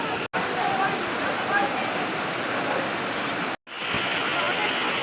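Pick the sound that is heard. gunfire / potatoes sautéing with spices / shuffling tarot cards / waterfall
waterfall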